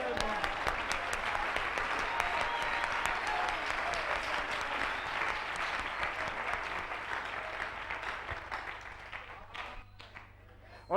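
A church congregation applauds together during a French and Lingala worship service, steady sustained clapping that fills the room for about ten seconds before tapering off, with voices mixed into the crowd.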